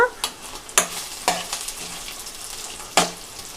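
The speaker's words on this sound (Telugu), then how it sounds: "ఇప్పుడు ఒకసారి అయితే మిక్స్ చేసుకుందామండి" Bitter gourd slices frying on a slow flame, stirred in a pan: a soft steady sizzle broken by about five sharp spatula scrapes and knocks against the metal, close up.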